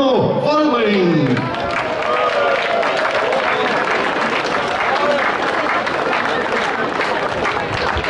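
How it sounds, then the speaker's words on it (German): Loud, sustained applause from a large crowd at the opening of a wine village festival in Herford, Germany, steady clapping filling the whole stretch, with a brief rising whistle or cheer near the start. "bitte ich nun um einen tosenden Applaus"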